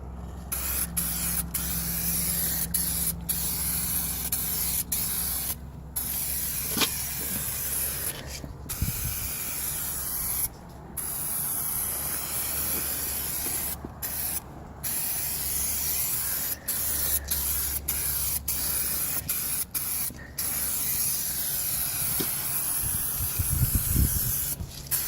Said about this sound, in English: I've got my can. It's all done up, and I'm ready to start spraying.